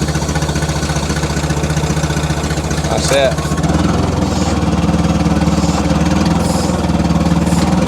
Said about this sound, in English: It's a big old engine, that is.